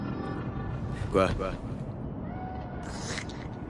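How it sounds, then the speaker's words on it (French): A cat meows in the video game Cyberpunk 2077, a brief mid-level call heard once under and between French-speaking voices, with a fainter second call later. "Tu le vois? Le chat."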